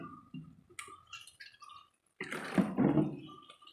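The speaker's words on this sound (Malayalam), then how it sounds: "ഇനി നമ്മൾ അതിനകത്തേക്ക് നമുക്ക് ആവശ്യത്തിനുള്ള വിനാഗിരി ഒഴിച്ചു കൊടുക്കണം" Vinegar is poured into a lemon and kanthari chilli pickle in a close, quiet kitchen. Small liquid drips and trickles come first, then a brief pause, then a fuller gurgling pour, with no voices.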